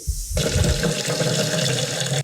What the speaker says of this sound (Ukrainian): Після того, як вода в бачку закінчується, наливаємо нову чисту воду.